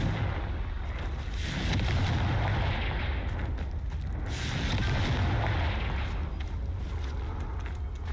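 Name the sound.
Confringo fire blast spell explosion from video game Hogwarts Legacy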